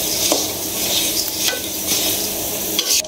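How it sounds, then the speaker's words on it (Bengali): Puffed rice (muri) dry-roasting in a pan, with a steady hiss and scratchy rattle of grains being stirred throughout, plus a few sharper scrapes of the stirring utensil against the pan. "ইয়ে করতেছে দিলে মুড়ি ভাজা করতেছে"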